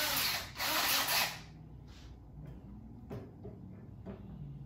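A handheld power drill fitted with a 3/16 inch bit whirs in a loud burst of about a second while stilts are being made, then stops, leaving quiet workshop knocks and handling sounds.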